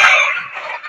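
Laying hens kept for egg farming cluck close by in a short, loud burst that slowly fades, with no talking.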